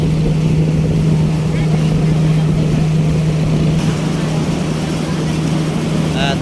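A steady motorboat engine on a small boat drones loudly throughout, a constant low hum with a strong tonal whine, while faint voices talk beneath it.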